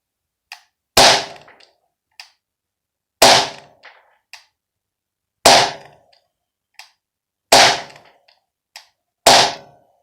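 An Umarex Smith&Wesson M&P40 airsoft pistol fires five sharp shots at a target 7 metres away, each crisp crack evenly spaced about two seconds apart, with faint clicks around each one and silence between.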